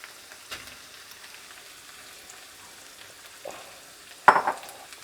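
Browned meat with onions, salt, pepper and finely chopped hard-boiled eggs being mixed in a pan, a faint low sizzle under quiet stirring, then one sharp, louder scrape of the utensil near the end.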